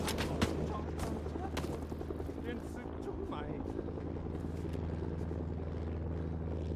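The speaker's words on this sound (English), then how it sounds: "The helicopter's going down," Helicopter in a Vietnam-era war video game going down, its steady rotor drone filling the scene with scattered gunfire cracks and bursts over it, loud and continuous throughout.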